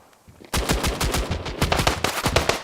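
Rapid automatic gunfire from the Standoff 2 shooter game in a competitive match, a dense burst of fast shots that begins abruptly after a quiet start and continues loudly to the end.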